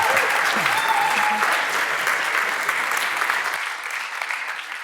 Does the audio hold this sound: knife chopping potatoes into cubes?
no